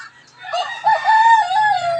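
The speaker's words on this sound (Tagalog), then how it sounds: "ang ating mga manok na yan" A rooster crowing once among laying hens, a clear, close, drawn-out call rising and holding in the quiet farmyard.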